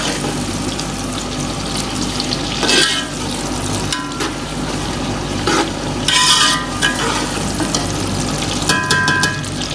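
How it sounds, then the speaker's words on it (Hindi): Onions browning in hot oil for matka nihari, a steady broadband sizzle with occasional louder bursts of crackle and stirring, close and continuous throughout with no talking. "ये प्याज के ऑयल के अंदर प्याज को मैं लाइट ब्राउन करूँगी।"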